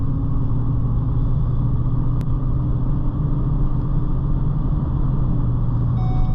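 A Ford Super Duty truck engine drones steadily from inside the cab as it pulls through the gears, a constant low rumble with no voices over it.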